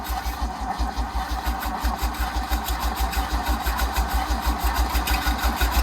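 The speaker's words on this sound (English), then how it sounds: "Alright, you crank it. Just don't give it throttle." A 1974 Nissan Caball shop truck engine cranks over in a steady rapid rhythm and keeps chugging close by, its loud even pulses running the whole time with no voices over it.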